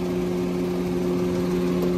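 A 3.5-litre gasoline engine in a seven-seat car idles in the engine bay with a steady low hum and a constant drone, close and even throughout, with no talk.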